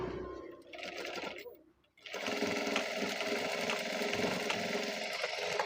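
A sewing machine runs steadily and close up, stitching ready-made piping onto a finished blouse, with a brief stop before it resumes its even whirring.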